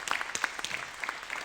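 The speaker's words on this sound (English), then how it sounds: "One more round of applause for our panel." Audience applause for a panel at a press association legislative breakfast, a short, fairly quiet burst of scattered claps from a room of listeners.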